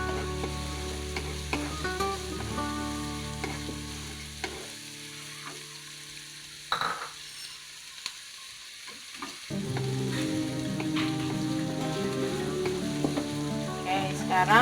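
Beef and onion frying and sizzling in a pan, a loud continuous crackle with stirring scrapes and a brief lull midway before the sizzle surges back.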